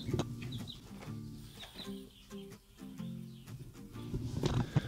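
Newly hatched ducklings in a brooder box give a steady stream of soft, high peeping and chirping calls, close by and overlapping, with no talk.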